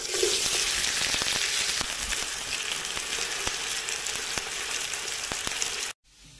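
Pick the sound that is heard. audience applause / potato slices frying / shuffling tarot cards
potato slices frying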